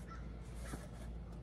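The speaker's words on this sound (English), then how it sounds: "Birds out talking to me." Crows call outdoors, a couple of faint caws rising over a steady low wind-like background hiss, with no voices.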